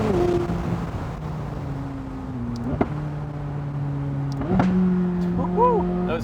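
McLaren 600LT engine droning steadily from inside the cabin, shifting pitch through gear changes with a couple of sharp exhaust pops, while a person talks over it.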